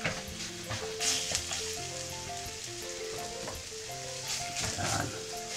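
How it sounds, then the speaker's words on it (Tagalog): Onions and garlic sauté in a pan for a beef cheek stew, giving a steady close sizzle with occasional stirring scrapes and clinks, no talking heard. "Tapos igisa natin yung mga onions, garlic."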